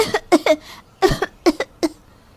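A woman coughs in two quick bursts of harsh, close coughs, with a short pause between them.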